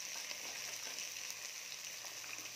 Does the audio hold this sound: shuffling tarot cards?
no